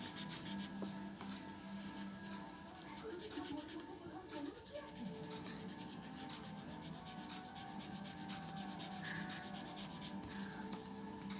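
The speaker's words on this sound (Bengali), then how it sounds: "তো কটন বারটা দিয়ে আমি এখানে একটু ব্লেন্ড করে নিব যাতে ছবিটা সুন্দর দেখা যায়।" A cotton bud rubs and blends a drawing on paper, giving a soft, steady scratchy rasp that runs continuously and close, with a faint background hum throughout.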